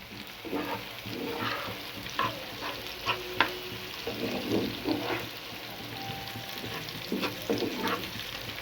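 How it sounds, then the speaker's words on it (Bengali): Onions frying in a small amount of oil in a pan for crisp fried-onion beresta, a steady sizzle with repeated stirring scrapes and soft clacks, close and moderately loud, with no voices. "দেখুন অল্প আছে লাল করে ভেজে নিতে হবে"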